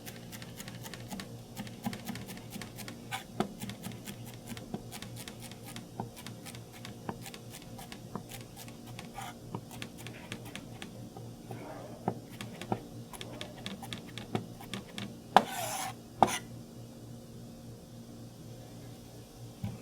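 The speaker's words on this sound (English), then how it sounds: "Now we're going to cut it in thirds." A knife chops celery into thirds on a cutting board, producing a long run of quick, close, crisp taps at an irregular pace, with a couple of louder knocks near the end.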